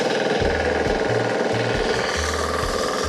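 A four-wheel mini tractor engine works weedy farmland, its loud steady diesel chugging running continuously and close up with rough knocking pulses throughout.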